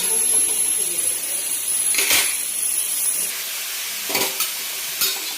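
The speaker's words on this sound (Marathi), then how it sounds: "दोन मिनिट आपण परतून घेऊ" Vegetables sizzle in a hot pan with a steady hiss, broken by a few scraping stirs of a spatula.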